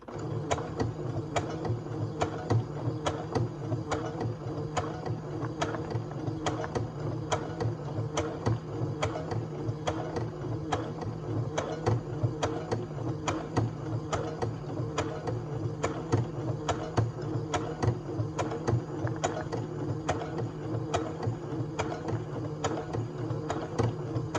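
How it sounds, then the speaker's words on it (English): A sewing machine stitching straight down a length of fabric for a pattern weight, running steadily with a fast, even mechanical ticking that stays close and continuous for the whole stretch, and no talking. "so here I'm gonna sew all the way down as well"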